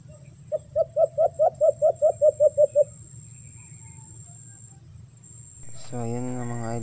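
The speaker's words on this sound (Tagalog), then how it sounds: "Medyo pagaw yung huni dyan ni Inky" A pet bird gives a quick rhythmic run of about a dozen short, slightly hoarse calls. After a pause, a low voice comes in.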